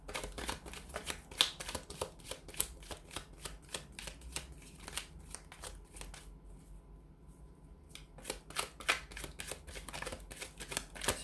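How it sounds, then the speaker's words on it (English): Tarot and oracle cards are shuffled by hand in rapid, crisp riffles and flicks, close and fairly quiet, with a brief pause midway before the shuffling resumes. "So we'll go ahead and give the cards a shuffle."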